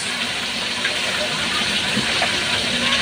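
A pot of taro leaves simmering in coconut milk as lemongrass and taro are added, giving a steady continuous hiss and bubbling throughout.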